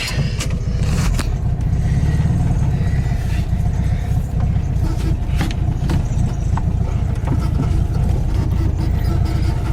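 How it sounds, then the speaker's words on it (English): Interior sound of a 1970 Volkswagen Beetle convertible on the move, a continuous low engine drone with road and wind noise and occasional small knocks and rattles, steady and fairly loud throughout. "this is one of the quietest Volkswagen Beetles that I've ever driven"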